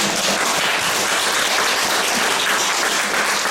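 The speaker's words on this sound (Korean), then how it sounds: "박수 한번 치셨어요" A church congregation breaks into loud, dense applause during a year-end service, a thick wash of many hands clapping continuously at close range with no talk over it.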